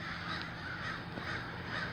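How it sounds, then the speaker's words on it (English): Several crows caw repeatedly in a park, harsh calls rising at irregular intervals over a steady outdoor background hum, moderately near and clear with no talking. "Gosh, the crows are just amazing, aren't they?"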